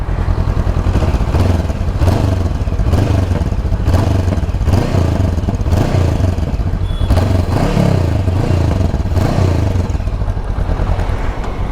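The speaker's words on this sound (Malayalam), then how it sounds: "എക്സോസിനോട് ടിപ്പിക്കൽ ആ ഒരു ട്വിൻ സിലിണ്ടർ" A Honda NX500 twin-cylinder motorcycle engine rumbles loud and close, its deep exhaust pulsing in slow surges as the throttle rises and falls.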